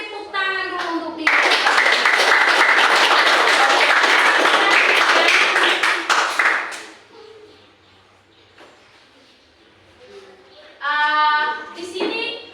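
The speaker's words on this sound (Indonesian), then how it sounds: "Oke, semua kita tepuk tangan dulu untuk dia." Classroom applause from students, a burst of loud clapping lasting about five seconds, followed by quieter moments and a teacher speaking before and after.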